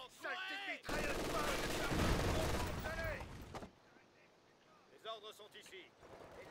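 Machine gun fire in the WWII strategy game Company of Heroes 2, a loud sustained automatic burst lasting a few seconds amid battle noise, with a voice speaking before and after.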